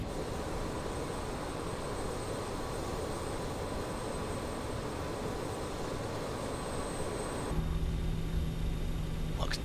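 Steady broadband whine and hum of the auxiliary power unit on a simulated RJ100 airliner parked at Glasgow in MSFS 2024, droning continuously at constant level, with a shift in tone near the end.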